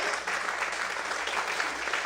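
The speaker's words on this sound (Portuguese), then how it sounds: "Mas bote as palmas" A church congregation clapping during an evening worship service, a continuous, fairly close wash of many hands with no pause.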